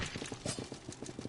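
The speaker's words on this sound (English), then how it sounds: "the horse went up the steps" Horse hooves clopping up steps in the video game Salt and Sanctuary, a fast, faint run of hoof taps over a noisy, muffled background.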